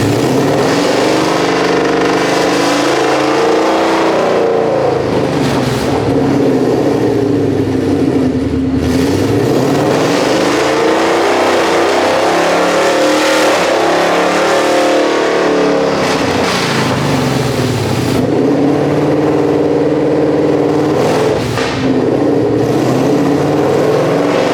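A 1200 HP Ford Mustang S650 engine starts and revs loud and close, rising and falling through repeated throttle blips with deep rumble and a rough idle between pulls, with no talk.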